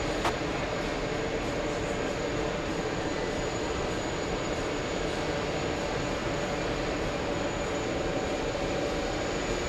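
A Delta jet departing from an airport produces a steady, broad engine roar, loud and unbroken throughout, with no voices.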